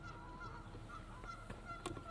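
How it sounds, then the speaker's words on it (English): Geese honking somewhere nearby outdoors in California, a few faint, scattered calls over low background rumble, with a sharper honk near the end. "as savage geese interrupt me, they're somewhere"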